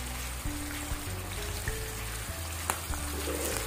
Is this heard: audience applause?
no